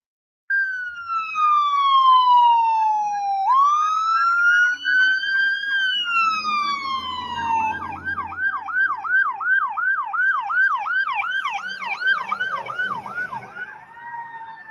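Loud, close ambulance sirens, sweeping long wails shifting into a rapid yelp, with a second siren layered in, continuous for the whole stretch.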